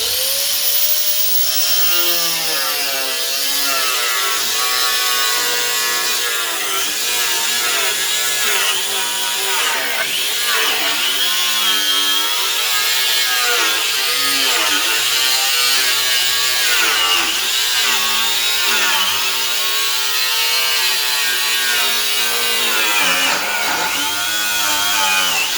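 Cement backerboard (HardieBacker) being cut with a power tool, a loud, continuous grinding whine whose pitch wavers as the blade works through the board, steady for the whole stretch with no speech.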